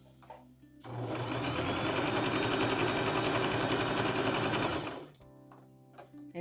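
A sewing machine stitches a fabric scrunchie in one continuous, fairly loud, whirring burst of about four seconds, with quiet handling sounds before and after.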